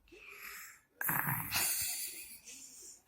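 A young child imitates a grandmother snoring, making a loud wheezy snort followed by breathy, rasping exhalations close to the mic, with no talk over it.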